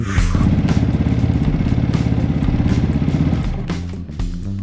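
A Megelli 250R 250cc street bike engine idles steadily at close range after warming up, with a rapid, even putter, then its pitch shifts slightly near the end.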